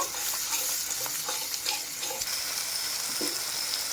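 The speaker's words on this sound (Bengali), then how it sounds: "টক দই দিয়ে আবারও ভালো করে মশলার সঙ্গে কিন্তু কষিয়ে নেব" Spices frying with whisked sour yogurt for a katla fish curry, a soft continuous sizzle with scattered light scrapes and taps of a spoon stirring the pan, close and moderately quiet.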